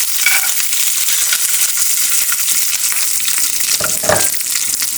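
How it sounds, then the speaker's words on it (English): Nuts and ginger roast in ghee in a hot pan with a loud, continuous sizzle and crackle. Brief scraping stirs can be heard near the end. "Now we have heated up a pan and we're going to roast our nuts in ghee"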